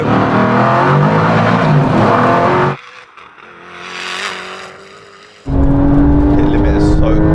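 A Koenigsegg, a 1000hp Audi TT and a Porsche 911 Turbo S accelerate hard together in a drag race from a 50 mph rolling start in second gear, loud engine roar dipping briefly mid-run, then surging back at full volume.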